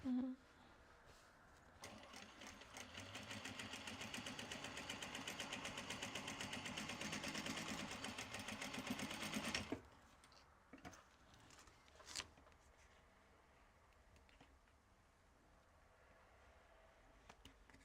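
An industrial-style sewing machine topstitching bags with dark thread runs in a steady, loud mechanical whir for about eight seconds, then stops, leaving quieter handling noises and a few brief knocks.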